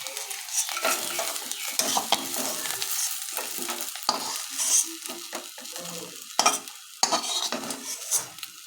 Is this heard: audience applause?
no